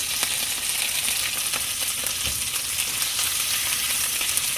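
Lamb chops sizzle steadily in a hot pan while being turned with a fork, a dense continuous frying hiss with faint scattered pops and small clicks.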